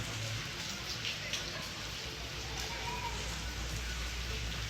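Rain falling at a tropical resort, a steady, even hiss of drops that continues throughout at a moderate distance, with no talk heard over it.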